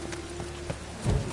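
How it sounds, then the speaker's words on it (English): Rain falling in the Witcher 3 game world, a steady soft hiss of drops with a brief low rumble swelling near the end, quiet and continuous. "Rain again."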